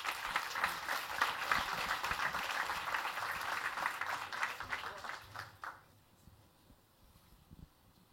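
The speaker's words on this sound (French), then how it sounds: "Je pense qu'on peut encore l'applaudir." An audience applauds after a talk, a dense burst of clapping that carries for several seconds, then tapers off and fades into a quiet room.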